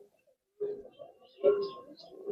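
A racing pigeon held in the hand gives a few soft, close, throaty coos in short bursts separated by brief pauses.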